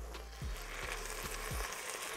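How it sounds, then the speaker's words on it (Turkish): Ground spices (black pepper, chili flakes and paprika) toast in a hot pan, a close, dense sizzling hiss with a few dull scraping knocks of a utensil stirring them. "Baharatları da bir kere kavuralım."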